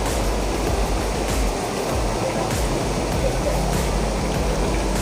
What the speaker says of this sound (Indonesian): Dan situasi makin deras, hujannya makin deras.